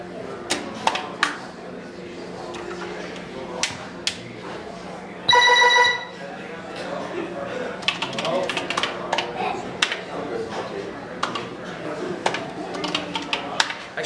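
Synthesized drum sounds from the PETSynth version 1 software running on a Commodore PET, a series of sharp clicky percussive hits in an irregular pattern with a brief buzzy tonal burst partway through, moderately loud over a steady hum.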